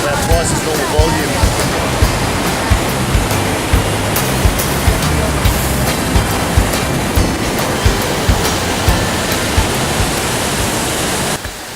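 A waterfall in Bali, running at about twice its normal volume after heavy rain, roars loud and close as a dense, unbroken wash of white noise across the whole clip.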